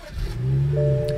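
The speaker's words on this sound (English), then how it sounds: "Push button start." A 2016 BMW 2 Series engine turning over from a push-button start, a short low crank rising into a steady idle hum with a faint higher tone entering near the end, close and alone.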